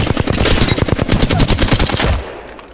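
Rapid automatic gunfire from a weapon in the video game Apex Legends, a loud, fast burst of closely spaced shots lasting about two seconds before cutting off abruptly.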